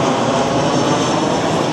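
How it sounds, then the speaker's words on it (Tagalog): A noisy airplane passes overhead above a large house and yard, its engine producing a loud, steady broadband roar that fills the whole stretch without breaks. "Sensya na kayo, may maingay na aeroplano."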